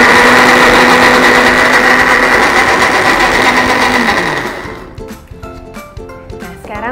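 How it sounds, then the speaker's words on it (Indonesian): A blender whirs steadily while mixing an avocado chocolate mousse sweetened with stevia, the motor's loud continuous drone holding for about four seconds before winding down, leaving scattered light kitchen clatter and quiet background sounds. "Kita blend lagi."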